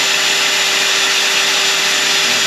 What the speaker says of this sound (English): But we're running two different power tools off of it.